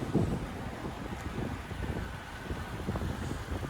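Wind gusts buffet a 2011 Toyota Camry LE during a drive, a steady low rumble with rough broadband noise lasting the whole stretch without letting up.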